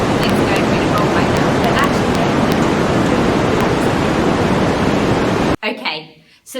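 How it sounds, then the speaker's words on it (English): Dense, loud white noise fills the first five and a half seconds and masks a speaking voice underneath. The hiss then cuts off abruptly, leaving only brief speech at the end. "I put white noise over the top of what I was saying to make a point"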